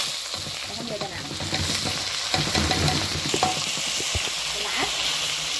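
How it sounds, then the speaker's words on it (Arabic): Vermicelli frying and sizzling in a pan with oil for koshari, a steady crackle with occasional stirring clinks and scrapes, close up. "هسيب الشعريه كده تتحمر كده اهي"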